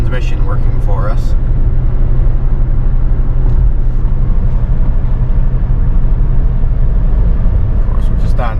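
A 2017 Jeep Renegade with a 9-speed transmission cruises at about 55 mph on flat pavement, giving a steady, loud road and engine drone throughout, with faint talk at the start and end.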